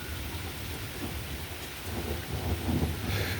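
Rain falls steadily at night while thunder rolls in low and deep, the rumble swelling louder toward the end over a constant hiss of rain on surfaces, with no voices.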